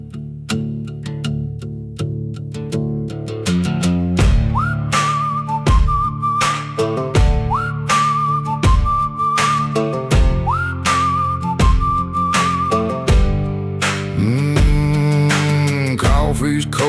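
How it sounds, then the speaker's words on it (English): Melodic whistling in a dark country outlaw song, sustained tuneful phrases with slides, carried loud and clear over plucked guitar accompaniment. "Whistle cuts through the morning haze."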